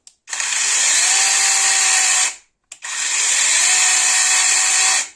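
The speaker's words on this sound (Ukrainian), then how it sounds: "давайте беремо батарейку і пробуємо. Перший пуск." A ProCraft PKA 44 cordless electric chainsaw is started twice, each time whirring up to a loud, steady high-pitched buzz for about two seconds, with a short silence between the runs.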